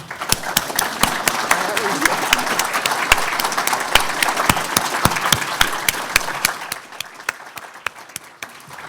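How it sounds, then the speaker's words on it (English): An audience at a UFO crash conference claps for Bob and Ryan Wood, sustained crowd applause with sharp individual claps standing out, tapering off near the end. "I'd like to pause for a second to give a huge clap of hand to Bob and Ryan Wood"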